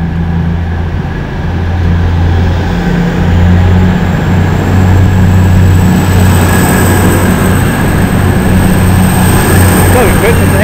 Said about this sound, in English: Here comes the HST.